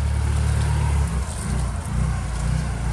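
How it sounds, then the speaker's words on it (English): Engine of a 2006 Yale GLP040SVX forklift, a short-wheelbase 4,000 lb pneumatic-tire lift truck, running steadily and close during a test drive, a low continuous drone with a slight dip midway. "We're test driving this very nice 2006 Yale GLP040SVX series"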